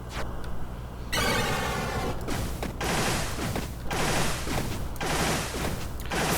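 In the game Star of Providence, a Thunderhead enemy fires dense streams of bullets as rapid, continuous mechanical rattling bursts, close and loud, with brief gaps between the volleys.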